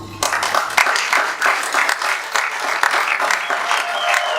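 A hall audience applauds at a tribute ceremony honouring André Guillaume Lub, with steady, dense clapping that stays loud and even throughout, with no voices.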